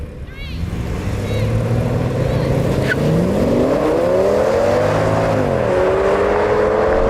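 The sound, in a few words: Audi S8 engine accelerating at full speed in a drag race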